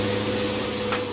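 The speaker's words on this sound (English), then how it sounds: "Engine fan just kicked in." A truck's engine cooling fan in American Truck Simulator, on an FLB, whirs as a steady droning roar with a constant low hum, filling the brief moment evenly.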